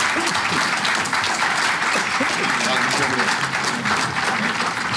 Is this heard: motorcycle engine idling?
no